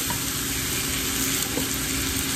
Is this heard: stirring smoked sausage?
yes